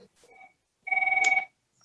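A phone rings once during a county board of education committee meeting: a short, bright electronic trill about half a second long, preceded by a couple of faint tones, with near silence around it.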